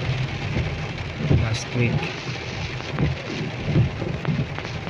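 Steady rain falls throughout during a days-long wet spell, a dense close patter with occasional heavier bursts, while a person speaks briefly over it.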